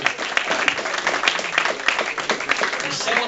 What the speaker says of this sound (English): So everybody give yourself a round of applause.